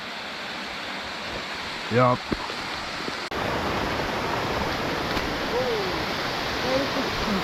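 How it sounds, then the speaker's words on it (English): A waterfall roars as a loud, steady broadband rush that fills the whole scene, with a brief spoken word early on over the constant flow of water. "I think we found a waterfall."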